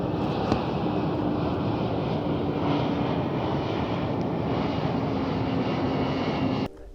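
A fixed-wing airplane drones overhead, a loud, steady engine roar holding for several seconds with a little wind noise before cutting off abruptly at the end.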